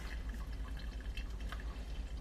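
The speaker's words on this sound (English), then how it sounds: "So I do 2 small pours to make sure it's more even." Water trickles and splashes steadily onto ground coffee during a small pour-over bloom pour, a soft, close, continuous liquid patter with no talking.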